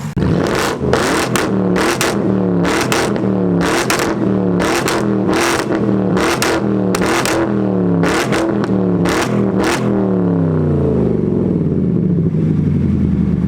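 A BMW 645Ci, already warm, revs hard about ten times in quick succession through its exhaust. Each loud, close burst climbs and falls away, and the engine settles into a rumbling idle at the end.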